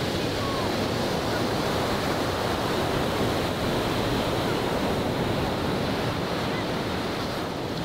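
Ocean waves wash onto a beach in a continuous, broad rushing roar, steady and fairly loud, with wind buffeting across the microphone.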